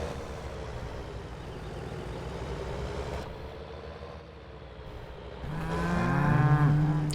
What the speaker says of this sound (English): I have not heard the mooing for a long time.